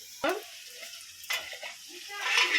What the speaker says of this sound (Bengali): তারপরে ঢাকনা দিয়ে একটু কষিয়ে নিচ্ছি দু মিনিট